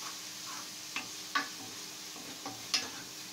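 Cumin and spices sautéing in a pan for palak paneer kofta curry: a quiet, steady frying hiss broken by a few soft spatula scrapes and taps against the pan.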